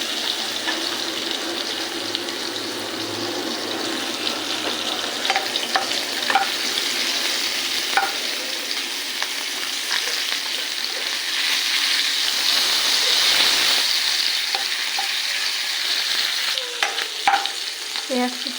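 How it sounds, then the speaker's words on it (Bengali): Chopped onion sizzles in hot oil in a pan with dried chillies, bay leaf and cumin, stirred steadily with scraping spatula strokes, a continuous near frying hiss throughout with no talk. "দিয়ে দেবো পেঁয়াজ কুচি। এটা ভেজে নেব।"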